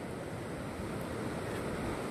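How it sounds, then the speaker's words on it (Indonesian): Big ocean waves surge and break steadily at Ngliyep beach, a loud continuous roar of surf with some wind buffeting the microphone and no voices. "Jadi ombaknya itu memang besar"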